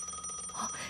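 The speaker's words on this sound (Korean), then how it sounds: "신우한테 전화 왔는데 갑자기 무슨 일이지" A telephone rings with an incoming call, a brief, steady electronic ring pulsing in quick repeats, heard alone and fairly close for under a second.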